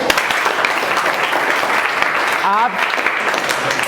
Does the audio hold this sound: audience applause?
yes